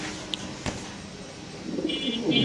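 White King pigeons at a pigeon farm coo softly and steadily, with a low murmuring call swelling toward the end, alongside a couple of brief knocks and faint background noise.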